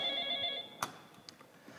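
A telephone rings on stage during a theatrical play, a steady electronic ring that cuts off partway through, followed by a thump and a few faint clicks.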